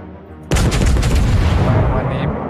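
Loud naval gunfire from the World of Warships video game, a sudden heavy boom that opens into a dense, sustained roar of shelling and rumble lasting to the end, with faint voices beneath.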